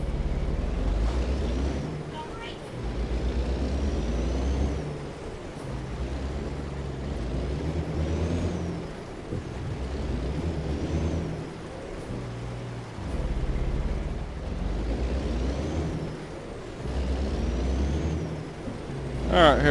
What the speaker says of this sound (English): you gotta be careful doing what I'm doing right now, because I could back into another truck fairly easily.